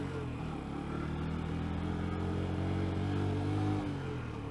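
Motorcycle engine idling steadily and close, a low continuous throb with a faint tonal hum rising briefly near the end, on a bike that is starting to develop a fault again.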